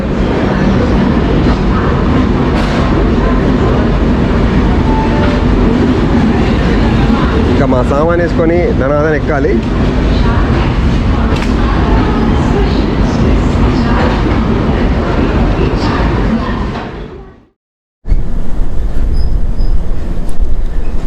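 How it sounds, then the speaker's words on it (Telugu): The Falaknuma SF Express, train 12703 running from Howrah to Secunderabad, rumbles loudly and steadily from inside a coach, with a brief wheel squeal midway and someone talking over the noise before it cuts out. "ఇక్కడ స్టాప్ లేదు, కానీ ట్రైన్ స్లో అయింది"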